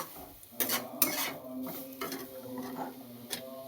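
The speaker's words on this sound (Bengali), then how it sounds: "গ্রেট করা গাজরটা বাটারে দিয়ে একটু কড়াইতে নেড়ে" Grated carrot being stirred in butter in a kadai, with scraping and clinking of a utensil against the pan and a soft sizzle, a few sharper knocks standing out over a low hum.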